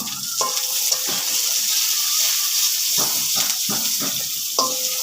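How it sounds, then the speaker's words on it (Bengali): Noodles stirred in a hot pan, a loud continuous sizzle with repeated scraping and clacking strokes of a spatula against the pan, close up and steady throughout, no voices. "এবার আমি একটু নাড়া দিয়ে দিই"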